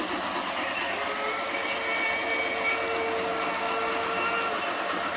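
A small model Christmas train runs along its track in an outdoor holiday light display, giving a steady faint whirring and rolling hum with light clicking, continuous and without talk.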